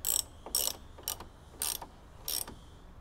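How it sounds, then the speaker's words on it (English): A ratchet on a 10mm socket tightens the top bolt of a VCM intake on a VE/VF SS, five quick bursts of sharp clicking with short pauses between, close and clear with no talk. "And we'll get our 10mm socket on this top bolt"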